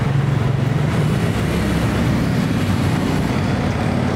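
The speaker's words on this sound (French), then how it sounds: "La rame de métro vient de passer" A Manila metro train passing on the rails, a dense, steady rumbling roar that stays loud throughout and eases slightly after the first second, with no voices.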